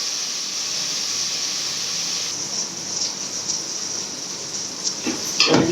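Onions and tomatoes sauté in oil in a pan with a steady, close sizzling hiss, and a few utensil clinks come near the end.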